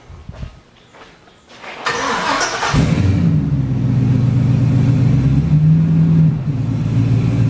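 A 1951 Chevy pickup engine cranks with a few clattering turns, catches loudly, and settles into a steady, rumbling idle close by, with a slight rise in pitch near the end.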